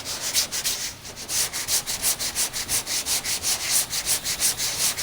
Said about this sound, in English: That needs to be sanded out.